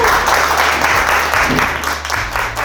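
An audience applauds the final winner at an investment competition awards ceremony, loud, dense clapping swelling over a low room hum and fading slightly toward the end.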